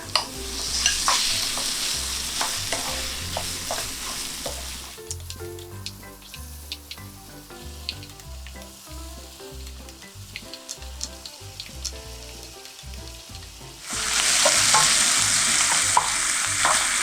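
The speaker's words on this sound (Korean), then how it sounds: "여기에 고기가 바싹 볶아졌어요" Minced seasoned meat and sliced onion stir-fried in grapeseed oil, loud crackling sizzle with repeated spatula scrapes at first, settling into quieter spluttering, then surging back to a bright steady hiss near the end, no voices.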